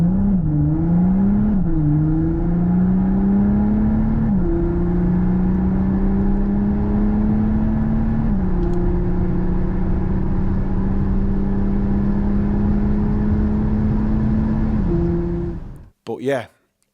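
Onboard a race car at the Spa circuit, the engine holds a steady loud drone that rises and shifts in pitch with gear changes, then cuts off abruptly near the end.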